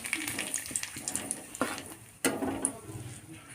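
Bay leaves drop into hot oil in a wok for chicken curry, a moderate crackling sizzle with clattering utensil knocks and a sharp clunk midway, some faint movement sounds around it.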